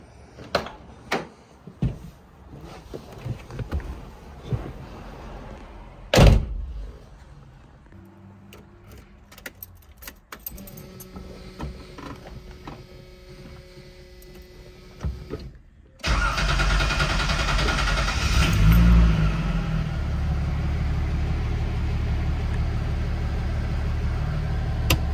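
A Nissan ZX car's door opens and closes amid key jingles and clunks. The engine then cranks and catches, settling into a steady, loud idle as it warms up.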